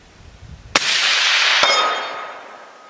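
A suppressed AR-10 .308 rifle shot rings off a steel target, a sharp single crack followed by a bright metallic clang that hangs and fades over a couple of seconds.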